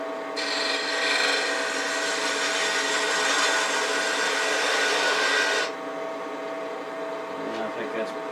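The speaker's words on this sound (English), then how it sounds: "As I'm rolling over to the right, I'm going to put my finger on top of the spindle gouge" A spindle gouge cuts end grain on a wood lathe while turning a shop stool, giving a steady, close rasping hiss for about five seconds before the cut stops and a quieter motor hum carries on.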